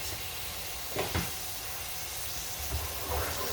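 Korean bulgogi short ribs sizzle in a pan with a steady, close hiss of frying, broken by a few brief scrapes and clinks of a utensil moving the meat, with no one talking.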